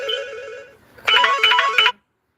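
A phone rings with an incoming call, a melodic ringtone that repeats in short bursts, close and fairly loud, with no one speaking over it.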